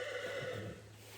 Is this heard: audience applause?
no